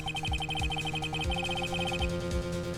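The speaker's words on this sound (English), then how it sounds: "I heard a phone ring just now." Phone ringtone in Phoenix Wright: Ace Attorney, a rapid repeating electronic trill in steady bursts over a rhythmic low backing beat, clear and alone.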